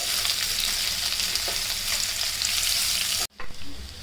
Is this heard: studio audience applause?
no